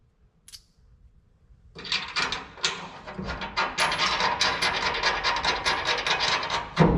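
A ratchet tightens a 9/16 bolt on a tucked bumper bracket of a 1979 Ford F100, giving a steady run of quick close clicks for about five seconds after a brief metallic tap.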